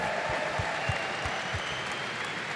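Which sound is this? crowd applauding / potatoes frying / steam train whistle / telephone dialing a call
crowd applauding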